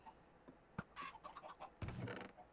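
Minecraft chickens in a chicken breeding farm cluck in short scattered bursts, a few quiet calls then a busier cluster near the end.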